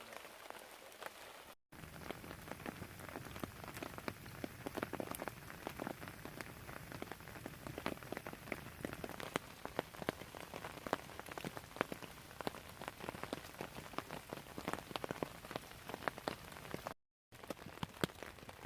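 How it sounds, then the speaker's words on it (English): Rain falling on a tarp over a hammock in a forest camp, a dense, steady patter of drops with many small crisp taps, fairly faint and continuous, with no talk. "It's raining, it's cold."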